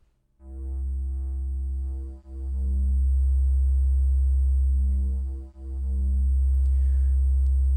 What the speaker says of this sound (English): let's listen to how each of these handle ring modulation